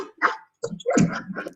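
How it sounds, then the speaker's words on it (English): A dog barks at another dog in short, near, loud bursts: a single bark, a pause, then a quick run of yippy barks and whines with no talk over them. "The dog has seen another dog"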